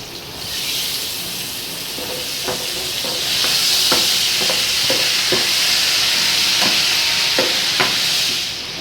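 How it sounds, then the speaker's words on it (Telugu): Tamarind juice poured into a hot cooking pot, giving a continuous hissing sizzle that swells partway through, with scattered light clinks of a utensil against the pot, close and steady without speech. "ఇప్పుడైతే పులుసు పోసేస్తున్నాను"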